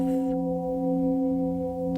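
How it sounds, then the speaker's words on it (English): Sustained metallic gong tones ring steadily with layered humming overtones, a rich resonant drone that holds evenly without fading. "As the gong tones sound"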